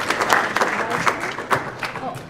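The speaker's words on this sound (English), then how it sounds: "let's give a round of applause for Emily." Applause from the audience at a luau music recital: a short burst of scattered hand clapping, fairly close and moderately loud, with uneven individual claps across the brief span.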